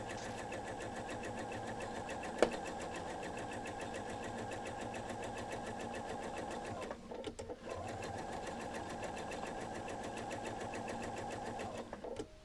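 A sewing machine stitches a quilt border onto green fabric, its steady mechanical whirring running continuously. It pauses briefly midway, then starts up again and runs on at a quiet, even level.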